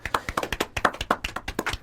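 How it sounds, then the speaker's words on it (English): A small group claps steadily in a brief round of applause on a radio-style show, crisp close hand claps in a fairly even rhythm with no talking over them. "Round of applause for that."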